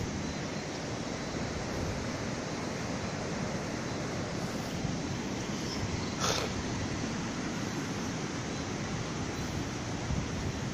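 Sea waves at the Barbados coast in St. Joseph give a continuous broad roar of surf and wind. The sound stays steady and close throughout, with no distinct individual breaks.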